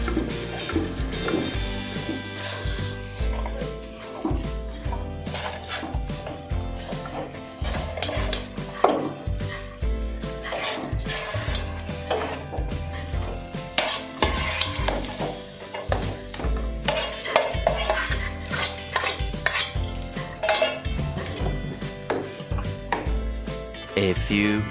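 Fried rice (nasi goreng) is stirred in a pan, with a metal utensil scraping and clattering in a busy, constant rhythm over sizzling, and faint voices now and then.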